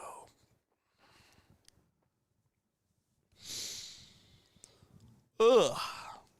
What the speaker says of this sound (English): That yawn felt great.